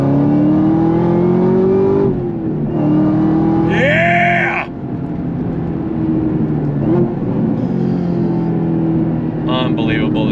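A car's engine revs hard on throttle, rising and falling in loud sustained bursts with a brief higher whine midway, while someone talks excitedly over it.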